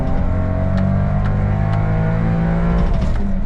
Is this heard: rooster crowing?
no